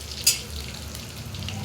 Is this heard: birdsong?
no